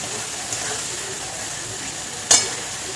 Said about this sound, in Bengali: একটু কষে নেবো লঙ্কাটা দিয়ে